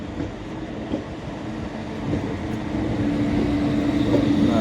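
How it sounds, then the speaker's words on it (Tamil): A passenger train runs on rails between Salem and Erode, heard from on board as a loud, continuous rumble with faint wheel clicks and a thin metallic squeal that grows slightly louder toward the end. "ட்ரெயின்"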